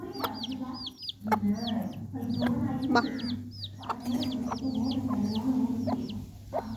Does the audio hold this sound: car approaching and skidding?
no